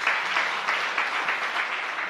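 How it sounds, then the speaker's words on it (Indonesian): Church congregation at a sermon applauding together, a steady mid-distance wash of clapping that holds evenly for about two seconds with no voices over it. "tepuk tangan yang meriah dong bagi Tuhan"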